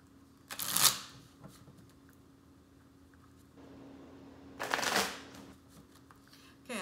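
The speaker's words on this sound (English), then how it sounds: "let me go ahead and mix these cards up for my Scorpios" Tarot cards are shuffled by hand in two short crisp riffling bursts separated by quieter handling, close and distinct, with a voice speaking softly between them.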